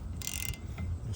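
Snap-on XFRRM705 ratcheting wrench, 15mm by 13mm, backing off a car's wiper arm nut, with a brief quick burst of ratcheting clicks near and alone, then faint mechanical rattle.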